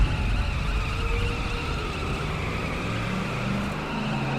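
Ford Mustang in the racing video game The Crew skidding, a sustained loud tire squeal over engine roar that holds steady for several seconds with no talk.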